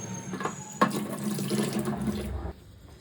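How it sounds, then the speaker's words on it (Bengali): Tap water runs steadily into a clogged kitchen sink basin while prawns are washed, a close, continuous splashing rush with one sharp clatter before it cuts off near the end. "চলুন চিংড়িটা আগে ধুয়ে নিই।"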